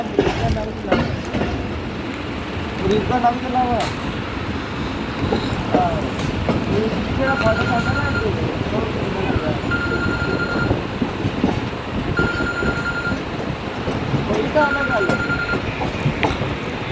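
The Jaffar Express passenger train between Lahore and Rawalpindi rumbles steadily along the rails picking up speed, with rhythmic clatter and a repeating tonal horn-like hum, voices faintly audible underneath.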